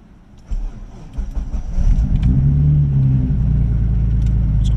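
A 1997 Mitsubishi 3000GT VR-4 with a single turbo conversion is hot started: a starter crank catches into a loud engine rumble that settles into a steady, deep idle nearby.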